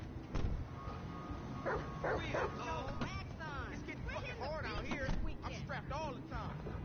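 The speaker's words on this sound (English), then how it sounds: "Good dog." A dog barking and yipping in Grand Theft Auto V, short repeated barks and whines over engine hum and game sound, with voices talking throughout.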